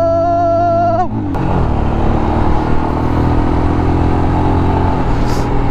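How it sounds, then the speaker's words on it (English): A Royal Enfield Scram 411 motorcycle pulls away at full throttle, its engine note rising and then settling into a loud steady roar with wind rush, heard close from the rider's position. "Look at that full throttle."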